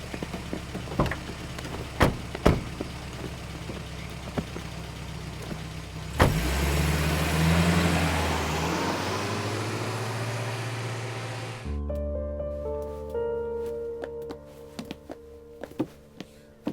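A car door thumps, then the engine starts with a rising rumble and the car pulls away over several seconds in a dubbed action-movie scene, before music takes over.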